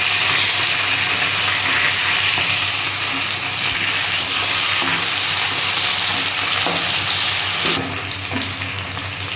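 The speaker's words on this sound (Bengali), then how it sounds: "মাছটা আমি এবার ভেজে নিচ্ছি" Fish frying in hot oil in a pan for a Bengali fish curry with drumsticks and lentil dumplings, a loud, steady, close sizzle and crackle with stirring, easing slightly near the end.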